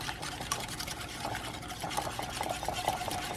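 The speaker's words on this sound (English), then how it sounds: "So we're whisking" Garlic aioli with lemon juice and vinegar whisked fast in a bowl, a steady close wet swishing with faint rhythmic clinks of the whisk, continuous and without pause.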